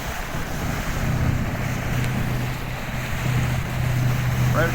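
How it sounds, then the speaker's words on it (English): A ferry crosses the St Clair River from Harsens Island toward Canada, giving a steady low engine drone under continuous wind and water noise, with no talking. "Ferry taking you across from Harson's Island over to Canada."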